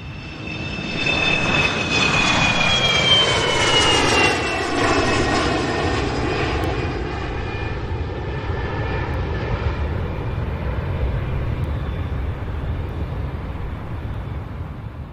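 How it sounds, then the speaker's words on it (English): Airliner engines spool up for a takeoff from Hong Kong bound for Hawaii in an animated cartoon: a loud, steady roar with rising whining tones that swells early, then settles into a sustained rumble, with no talking. "The airplane will start right now."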